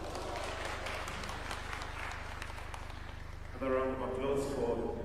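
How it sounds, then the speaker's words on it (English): Summit attendees at a Homa Bay university clap steadily for several seconds over a background hum before the applause dies away and a voice starts talking over a public address system. "Another round of applause."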